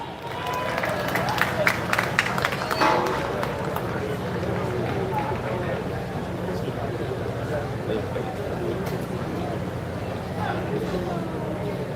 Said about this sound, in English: please give a warm round of applause for Kush Ramsey